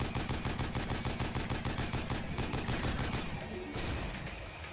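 Rapid rifle fire in a video game, a dense, loud stream of shots in quick repeating bursts that eases off slightly toward the end.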